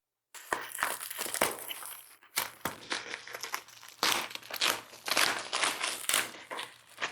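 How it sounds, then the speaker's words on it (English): Cardboard and plastic packaging crinkles and crumples close up as an open-air computer case is unboxed, coming in repeated rustling bursts with brief pauses between handling. "open the box so we can see how this is all packaged"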